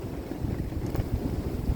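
A strong night storm wind roars steadily and loudly, a dense low rumble buffeting the microphone without pause and with no one talking.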